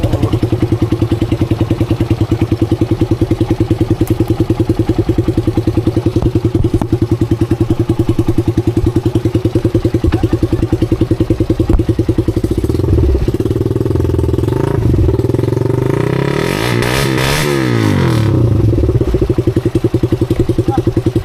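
A motorcycle engine with water in its exhaust runs steadily up close with a rough, sputtering exhaust, then revs and labors unevenly before settling back into a throaty idle.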